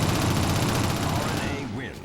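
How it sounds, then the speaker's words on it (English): Rapid continuous minigun fire in the Shadowrun multiplayer video game on Xbox One, loud and sustained, dense automatic bursts blending with a voice talking over it before the fire tails off near the end. "I'm assuming that's the minigun."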